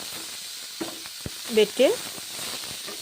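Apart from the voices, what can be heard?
fish masala sizzling while frying in a pan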